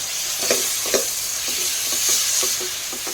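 Turmeric, coriander powder, red chilli and black masala stirred in a pan for masale bhaat, with about seven rhythmic spoon strokes over a soft continuous sizzle, close and with no talking.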